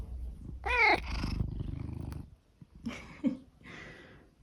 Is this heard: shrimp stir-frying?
no